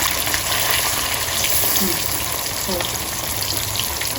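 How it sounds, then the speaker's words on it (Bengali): Marinated fish sizzles steadily in a hot pan of oil in a home kitchen, a close, even, continuous hiss with no break. "আম্মু আমাকে মাছটা মেখে দিয়েছে এখন আমি ভাজাভাজি শুরু করে দিব"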